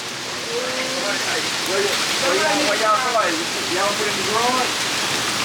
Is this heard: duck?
no